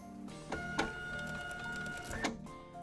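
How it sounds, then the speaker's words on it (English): A label printer runs off a test label, giving a steady mechanical whir with a few sharp clicks and short motor bursts, fairly close and with no voices. "directly from within the product you're able to test on a label printer how your output will look"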